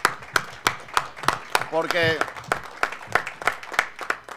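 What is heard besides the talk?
audience applause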